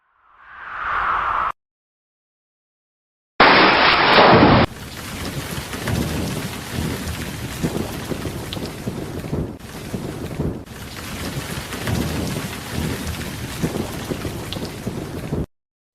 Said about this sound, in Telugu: ఆర్టిఫిషియల్ రెయిన్ ప్రాజెక్ట్ కంప్లీట్ అయింది